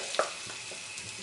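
Potato pieces frying in a pan for double-fried potatoes, a soft steady sizzle with a brief clink near the start, quiet and without voices.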